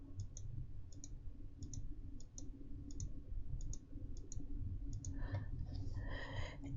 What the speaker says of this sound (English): I'm going to click the first one twice and the second one once